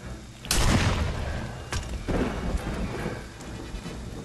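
A gunshot rings out in the survival horror game Friday the 13th as one loud booming crack, followed by a long rumbling tail and a couple of smaller thumps, with no speech in the gap.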